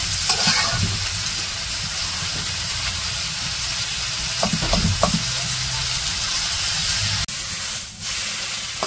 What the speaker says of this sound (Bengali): এখন একটু পেঁয়াজ আর কাঁচামরিচ মিশিয়ে ভেজে নিতেছে